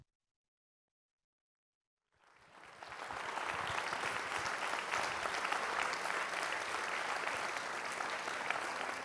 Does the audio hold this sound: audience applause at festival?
yes